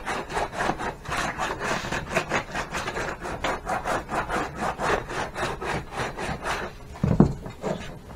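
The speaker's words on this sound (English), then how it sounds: "And I've got just here a simple sanding block." Steady back-and-forth rasping of coarse sandpaper on a sanding block scrubbed against a tanned bear skin, rhythmic strokes about twice a second, close and continuous.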